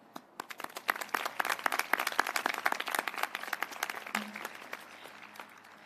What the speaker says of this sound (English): We, the class of 2020, applaud you.